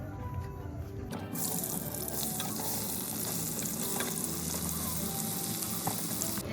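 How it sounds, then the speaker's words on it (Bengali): Boiled jackfruit pieces fry in oil left over from frying fish, a loud, close, dense sizzle that swells after the first second and crackles on steadily alone. "সিদ্ধ করা কাঁঠালগুলো এলা মুই তেলত ভাজি নিই।"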